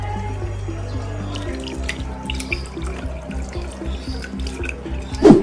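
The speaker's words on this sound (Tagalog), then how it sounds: "Kailangan natin hugasan ang kanyang sugat gamit ang tubig and then sabon" Running water from a tap pours during first aid, as a wound is washed with water and soap. It makes a steady splashing trickle with a few drips over a low hum, and a louder splash comes at the end.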